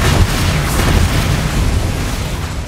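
Confringo blasting curse in Hogwarts Legacy erupts in a loud, sustained booming explosion with crackling burst texture throughout, heavy low rumble dominating with no talking.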